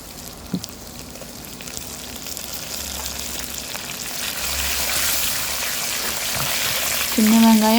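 Curry leaves fry in hot oil for a fish kuzhambu, a steady crackling sizzle that swells louder toward the end, with a sharp tone rising near the close.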